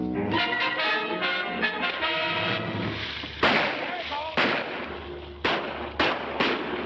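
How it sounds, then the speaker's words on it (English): Gunshots fired at a man fishing in Panama, several sharp loud cracks spaced irregularly in the second half, following music and voices, in an old film scene. "Why are they shooting at him?"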